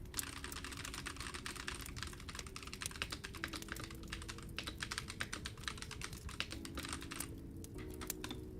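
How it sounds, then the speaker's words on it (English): Rapid clattering of computer keyboard keys, continuous fast typing close by, with a faint steady hum underneath. "That's the sound of my keyboard."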